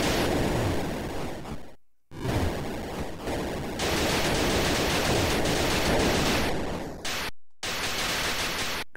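Explosions in an Atari Lynx video game, harsh noisy bursts that come in rapid, loud succession, broken by a few abrupt moments of silence.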